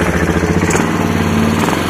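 A motorcycle engine fitted with a Keihin CVK carburetor runs loud and close with the choke on, a steady rumbling idle just after starting.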